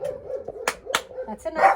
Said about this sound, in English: You might hear the dogs barking and a lot of noise in the background